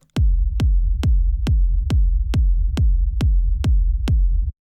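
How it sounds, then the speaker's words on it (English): A simple electronic kick and bass pattern plays alone: ten punchy, evenly spaced kick hits with deep booming bass tails, loud and steady. "for this demonstration, I have set up a simple kick and bass"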